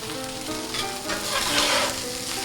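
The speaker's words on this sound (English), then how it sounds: "you want to sear every side on your steak" Steak searing in hot grease on a teriyaki griddle, a steady loud sizzle with crackling that swells slightly midway, no voices.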